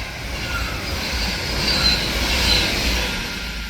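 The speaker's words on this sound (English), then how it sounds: "we're gonna have a 390 Pendolino going from Manchester Piccadilly to Northampton" A Class 390 Pendolino train travelling from Manchester Piccadilly to Northampton passes through Heaton Chapel station with a loud, continuous rumble and roar. Faint wheel squeals ring briefly above the noise as it goes by.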